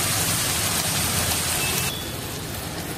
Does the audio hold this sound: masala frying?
yes